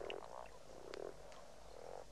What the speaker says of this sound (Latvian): Kāzu dziesma ir arī krupjiem un vardēm, pie tam ļoti skaļa un skaidra.